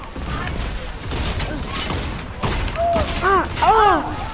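Video game gunfire striking the player: a burst of rapid shots and impacts, fairly close and sharp, with clattering mechanical effects, followed by a few short vocal cries near the end.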